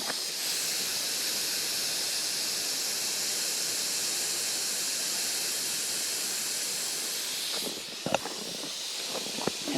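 Propane hisses steadily and loudly while a small green propane tank is refilled at a campsite, a continuous close rushing jet that drops off near the end with a few clicks.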